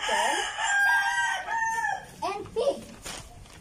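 A chicken crows a drawn-out cock-a-doodle-doo, then clucks in short rising bursts, close and clear with no voices over it.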